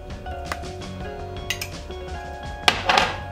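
A spoon stirs mawa with sugar and ghee in a pan over low heat, giving scattered light metallic clinks against the pan, with a brighter cluster of scrapes and clinks near the end.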